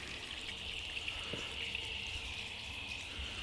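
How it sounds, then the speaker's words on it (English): Steady stream of water flooding over a car's coated paintwork and windshield during a wash, a continuous close hiss and trickle with one brief drip-like tap partway through, no talking. "Once you flood dry it like this with a nice flow of water, everything will dry off pretty much completely."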